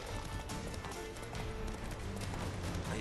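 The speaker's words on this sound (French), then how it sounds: "Au galop, Ciri. Allez." A horse gallops in the video game The Witcher 3, its quick, rhythmic hoofbeats drumming steadily at a close, even volume throughout, with some game ambience around them.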